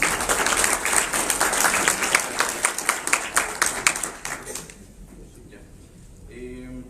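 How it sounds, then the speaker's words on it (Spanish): Enthusiastic clapping from an audience at a panel discussion on science communication, with a few sharp individual claps standing out, gradually thinning out and fading near the end. "les pido también un fuerte aplauso para Víctor Romano"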